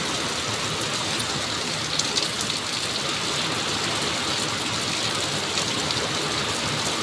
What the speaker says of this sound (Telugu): అసలు అనుకోలే వర్షం పడిద్దని.